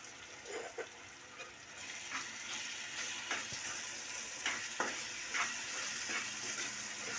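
Ginger garlic paste sautéing in a pan with onion and tomato for rava kichadi, a steady soft sizzle with occasional stirring scrapes, fairly quiet and close, no talking.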